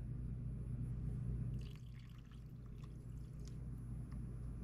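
Water pours into a big bowl of chicken broccoli rice casserole mix, a steady low liquid rush close by with faint splashy trickles over it and no talk.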